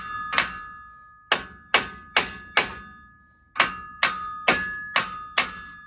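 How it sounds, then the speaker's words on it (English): Ten sharp hammer blows ring out against a steel steering knuckle on a Jeep TJ during a steering install, struck in two quick groups with a brief pause between them. Each hit is loud and close, with a metallic ring, and no one speaks. "just to give a couple good whacks on the knuckle and it'll usually drop right out"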